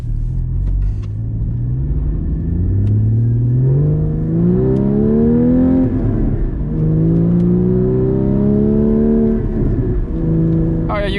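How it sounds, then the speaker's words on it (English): A Porsche GT4 driven hard on a snowy winter road, its engine droning loud and close and climbing repeatedly in pitch through the gears, with no talk over it. "you can still drive this car fast in the winter"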